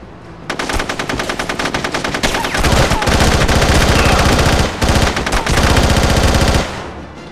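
Automatic gunfire in SOCOM: U.S. Navy SEALs Combined Assault, loud rapid bursts firing close by in long strings with two brief pauses, stopping abruptly near the end.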